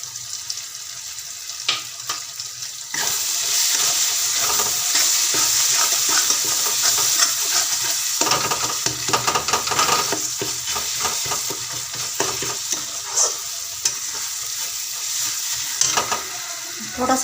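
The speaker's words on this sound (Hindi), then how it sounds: "मसाला हमारा अच्छी तरह से भून चुका है" Chana masala spices sizzle and fry in a pan while being stirred for chole, a steady loud hiss with repeated scraping strokes of the spoon, no voices.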